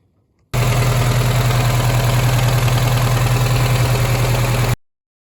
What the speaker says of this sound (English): I hope that you hear the truck running